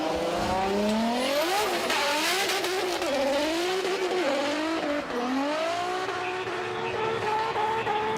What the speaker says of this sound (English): we are moving on right now with Russell, 180SX RPM parts, and he's starting right now.